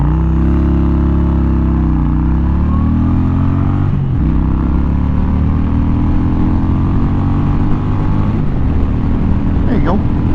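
A 1998 Honda Shadow Ace motorcycle accelerates hard from a standstill, its loud engine note climbing through gear shifts in steady rising sweeps, close and continuous.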